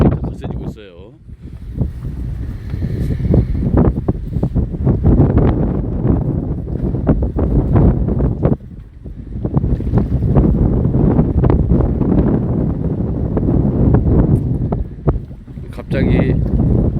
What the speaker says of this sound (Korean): 자, 바람이 더 거세지고 있어요.